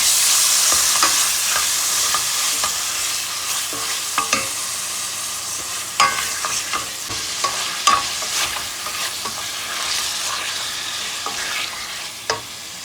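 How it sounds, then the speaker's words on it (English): Meat frying in hot fat with browned onions for pilaf rice, a loud continuous sizzle and crackle with frequent spoon scrapes and clanks against the pot, up close. "Our fat and onion is brown. I'll add my meat."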